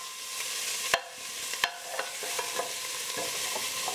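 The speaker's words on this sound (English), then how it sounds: "I'm going to stir those around." Thai red curry ingredients with chilli peppers are stirred in a hot pan, with sharp scraping utensil strokes over a steady sizzle, close and without speech.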